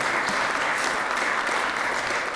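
Steady applause from an audience at a state of the city address, a dense even patter of many hands clapping throughout with no break.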